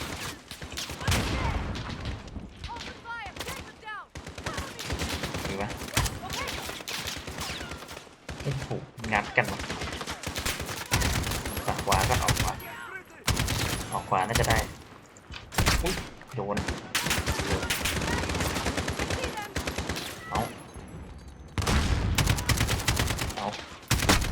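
Rapid bursts of Call of Duty: Modern Warfare gunfire and heavy explosion booms fill the scene continuously, loud and close, with voices talking over the shooting.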